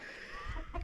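Chickens clucking in a yard, a short burst of a few close, soft clucks over a steady background hiss.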